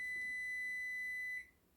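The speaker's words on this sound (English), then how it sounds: "Timer again." A kitchen timer sounds one sustained, high electronic beep lasting over a second before cutting off, close and clear against a quiet room with no voices.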